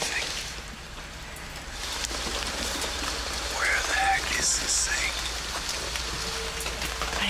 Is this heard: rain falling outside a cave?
yes